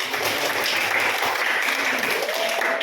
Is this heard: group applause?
yes